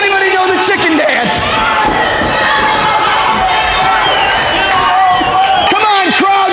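A lively crowd cheers and shouts through a pillow fight at a game-show event, with children's high voices, whoops and occasional thumps mixed into a continuous loud roar.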